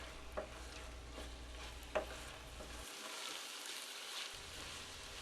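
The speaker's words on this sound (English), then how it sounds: "we're going to stir that back in and let the ragu cook down a little bit longer" A meat ragù of ground beef simmers in a pan, with a soft steady sizzle and a few faint scrapes of stirring, quiet and close with no talk.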